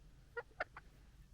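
A few soft, distant clucks from a chicken, three short notes in quick succession over a quiet low background hum.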